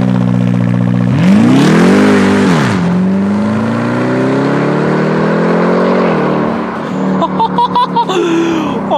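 A 900 HP all-wheel-drive Dodge Durango SRT Hellcat launches and loses traction: a loud engine rises in pitch through the gears with strong revving, then eases off, followed by a series of short clattering sounds.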